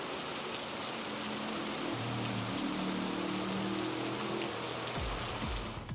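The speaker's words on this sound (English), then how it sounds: "Which will be the patch to add rain and weather effects." Steady rain and weather effects from the iRacing racing game, a dense even hiss of drops on a surface that holds level throughout, with a low rumble near the end.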